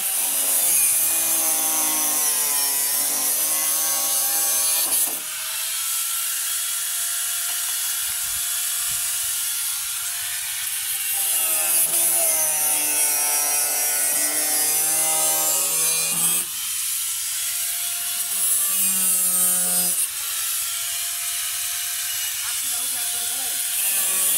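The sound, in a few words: sawing bamboo for an oil-barrel floating boat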